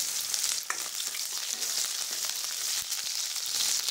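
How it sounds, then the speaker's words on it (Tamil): Mustard seeds splutter and pop in hot oil for sambar tempering over a constant sizzle, with scattered crackles close by and no talking. "கடுகு வெடிக்கிறது"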